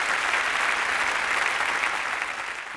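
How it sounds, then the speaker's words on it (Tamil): An audience at a Pongal special debate show (pattimandram) breaks into sustained, loud applause that holds steady before easing slightly at the end, with no voices over it. "இந்த சகோதரி சொன்னதற்காகவே ஒரு கைத்தட்டு கொடுக்கலாம்"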